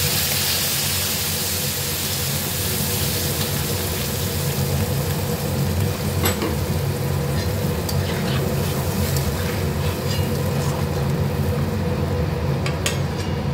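Mango pieces simmering in a pan after water is poured in, a steady bubbling hiss with occasional stirring scrapes, continuous and fairly loud with no voices.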